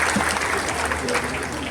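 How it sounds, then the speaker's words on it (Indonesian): Audience applause at a Muhammadiyah anniversary gathering where the West Java governor is giving a speech: steady, dense clapping from a large crowd, loud and continuous through the whole moment, with a faint voice mixed in. "Tepuk tangan ya"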